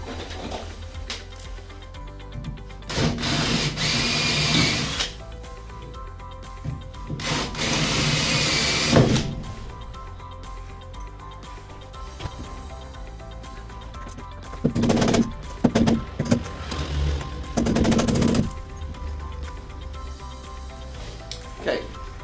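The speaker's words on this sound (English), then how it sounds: "Okay, so the rivets out the hole." A power drill bores out rivets on a horsebox in several loud bursts of a few seconds each, separated by quieter gaps.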